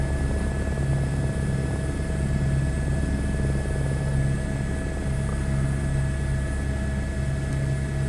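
An H125 helicopter in Microsoft Flight Simulator 2024 spinning up for takeoff, a loud continuous rotor drone with steady whining engine tones throughout, no talking.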